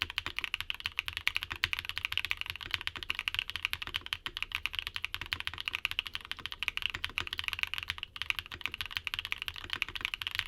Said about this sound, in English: Now, here's the sound test.